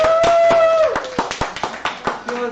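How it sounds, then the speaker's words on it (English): A small group at a Sabbath service claps, first as a dense patter under a cheering voice, then in a sparse run of separate near claps. "Everyone give Sheila a round of applause"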